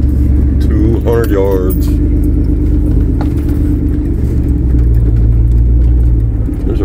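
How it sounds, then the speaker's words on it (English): Pickup truck driving over rough ground between targets at a rifle range, a steady low engine and road rumble running throughout with jangling keys and a voice talking over it. "Jumped in the truck because I ain't walking"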